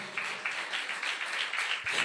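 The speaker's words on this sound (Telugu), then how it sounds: "గట్టిగా చప్పట్లు కొడదా?" Church congregation applauding, a soft but continuous patter of many hands clapping in fairly even pulses, heard at a modest distance with no talking over it.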